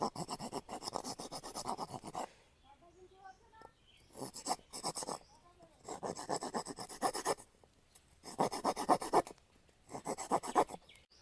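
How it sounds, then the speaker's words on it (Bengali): Rubbing and rasping enlarges the hole in a wooden skate wheel on a Massey Ferguson 900 model build, in several loud bursts of scraping strokes with quiet pauses between them. "ঘষে ঘষে বড় করি দেখা যাক কি হয়"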